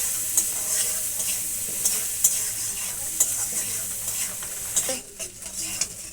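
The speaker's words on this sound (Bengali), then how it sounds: "পেঁয়াজগুলো ভালো করে ভাজতে হবে" Onions sizzle and fry in a pan, seasoned with turmeric and salt, while a spatula scrapes and stirs them in steady, close strokes with scattered sharp clicks.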